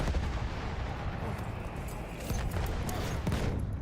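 Sustained SMG fire with a 60-round magazine in Battlefield 1, a dense, rapid stream of sharp shots at close range running the whole time with distant battle noise behind.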